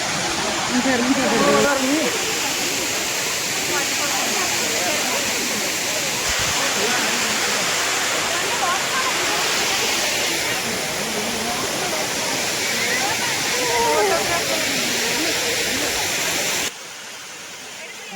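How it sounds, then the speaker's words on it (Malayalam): A waterfall at Kodaikanal, India, roars as a loud, steady rush of falling water, close and continuous, with voices faintly audible under it before the sound drops slightly near the end. "ഇതൊരു വാട്ടർഫാൾസ് ആണ്"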